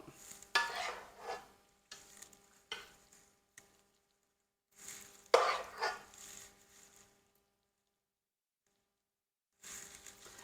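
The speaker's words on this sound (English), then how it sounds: "Just putting a little bit of rice on each plate. And smoothing it out." Rice is spooned onto plates and smoothed out, heard as several soft scraping and tapping bursts of a utensil against plates, separated by quiet gaps.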